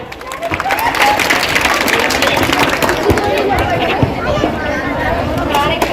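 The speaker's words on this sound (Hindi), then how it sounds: "तालियां बजते रहिए" Audience at a school annual function claps steadily and loudly for several seconds, a dense wash of hand claps mixed with crowd chatter and voices.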